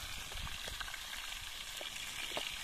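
Tilapia fish frying in a pan of oil, a steady dense sizzle with small pops and crackles throughout, fairly quiet and with no voices.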